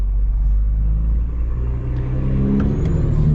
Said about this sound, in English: that truck's gonna be taking a wide turn